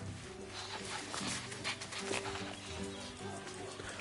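Young pups of North American animals in the zoo game Planet Zoo whimper and yip in soft, brief calls over a faint ambient game background.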